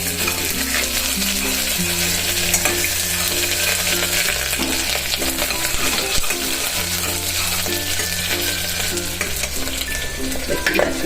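Vagharela bhaat, a tempered Gujarati rice dish with curry leaves, lemon, potatoes and ginger-chilli paste, sizzles steadily in a frying pan while a spoon stirs and scrapes through it, loud and close with no talking.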